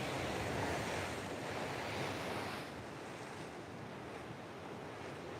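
Ocean surf rolls in along a cold coastline where people are out surfing, a broad steady wash of breaking waves with wind noise on the microphone, louder for the first half and then settling into a softer continuous roar.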